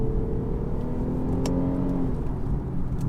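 Infiniti Q50S sedan with a 364 hp V6 pulling hard in second gear, a steady, loud engine drone with a rising tone running throughout, close and without talk.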